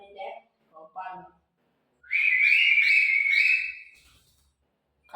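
A person whistles one loud, sustained note lasting over a second to call a pet cockatiel, with brief fragments of nearby speech before the whistle.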